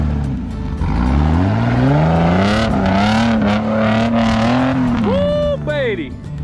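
Hemi-powered Jeep engine straining and revving as the vehicle climbs an offroad rock wall, a loud, close, sustained growl with rising and falling pitch, ending in a sharper rev; people talk over it.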